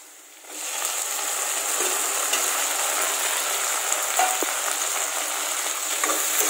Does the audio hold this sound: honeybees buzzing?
no